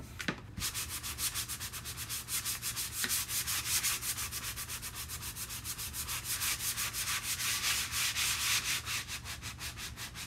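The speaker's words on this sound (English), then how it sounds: "Just kind of get a little bit of this up here, sand it out." Steady back-and-forth hand sanding of a painted, chalk-stencilled surface, a close, continuous rhythmic scratchy rasp with even strokes throughout and no talking.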